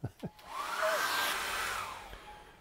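A hair dryer drying acrylic paint on a silver birch tree lake painting blows steadily for about two seconds with a rising and falling whine, preceded by a couple of brief clicks and handling noises.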